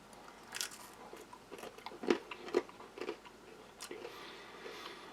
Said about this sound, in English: So simple wheat crackers, nice snap.